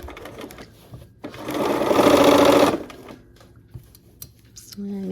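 Sewing machine stitching quilt block seams for a Christmas quilt block, one short loud close run of about a second and a half, with quieter handling sounds before and after it.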